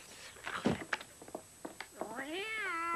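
A house cat gives a drawn-out, wavering meow near the end, close and clear, following a stretch of soft voices and small knocks.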